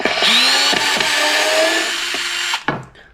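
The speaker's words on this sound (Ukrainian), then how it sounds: "Тепер на останній швидкості спробую викрутити самий найбільш вігнаний в дерево шуруп." A WORX WX242 cordless screwdriver at top speed backs a deeply driven screw out of wood, a loud close whine with rising pitch and a few clicks before it stops abruptly.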